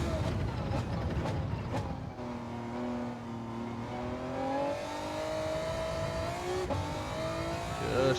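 Racing car engine in Gran Turismo 7 at Sardegna, revving steadily with rising and falling pitch as the throttle eases and picks up, loud and continuous, with a few brief clicks early on.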